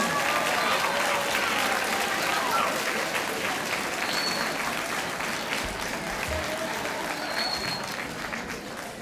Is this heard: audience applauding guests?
yes